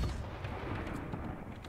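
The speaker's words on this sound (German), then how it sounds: "Der schießt mit der Kanone auf der Insel." A cannon fires from an island in the pirate game Sea of Thieves, a low, rumbling boom that fades over about two seconds, moderately faint with no talk.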